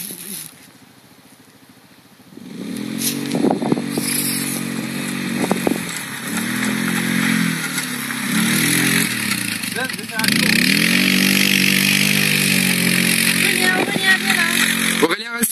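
A Hytrack 150sx quad's small engine starts after a quiet moment and runs with a buzzing, revving drone that rises and falls, close and steady, while people talk in French in the background.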